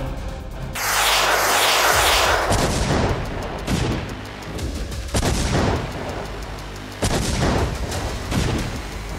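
Heavy artillery fire during a large Russian military exercise with cannons and armoured vehicles: repeated loud, broadband booms and blasts, several overlapping bursts with rumbling decay, no speech.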